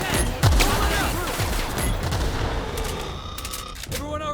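Sci-fi weapon fire in The Outer Worlds (Peril on Gorgon DLC) during a firefight, a rapid volley of shots and booms up front that thins into scattered reports and electronic effects, with a voice partly beneath.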